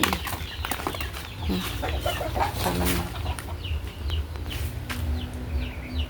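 Chickens cluck and squawk close by while being fed split coconut, with several birds calling over a steady low rumble and a few wing flaps.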